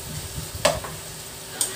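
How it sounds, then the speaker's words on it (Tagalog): Softened tomatoes sizzle in a frying pan as they are pressed and stirred, a steady close crackle with a couple of sharp utensil clinks against the pan. "Press-press lang natin siya para umatas yung lasa ng kamatis."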